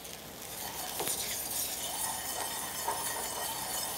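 Onion is stirred in a pan of reducing syrup to glaze it: a soft, steady sizzle with occasional light scrapes and clinks of the utensil, fairly quiet and continuous, without talk.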